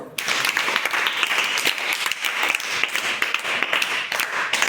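Children clapping together in a classroom to applaud a student, a steady, dense patter of claps held for several seconds, near and fairly loud.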